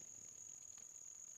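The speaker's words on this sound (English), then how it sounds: "Except for the crickets," Crickets chirp steadily outdoors in the early morning, a continuous high trill with no other sounds.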